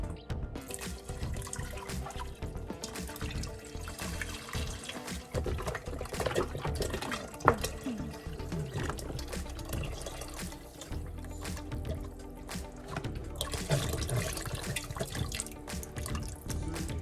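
Water pours and splashes into a pot for black-eyed peas with chicken broth and onion, a steady running gurgle with drips and small clanks, close by and without speech.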